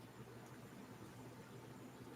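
Faint, steady broadband hiss like tape noise, even and continuous with no other sounds.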